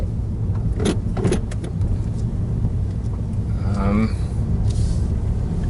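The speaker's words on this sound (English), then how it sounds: "So let's go into third. Get the RPMs up a little bit." A manual car engine hums steadily from inside the cabin while driving, with a brief rise in revs and some clicks from shifting gears; a person speaks briefly over it.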